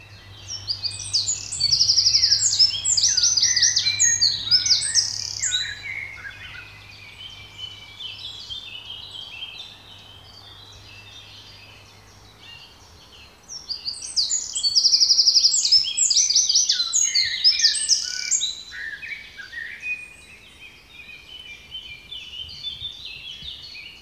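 A tiny nine-gram wren singing outdoors near a marsh, two bright, rapid trilling bursts of song separated by a quieter pause, loud and close against faint background hum.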